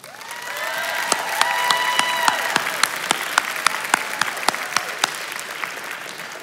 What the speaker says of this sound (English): Graduates, can we get a round of applause for your loved ones?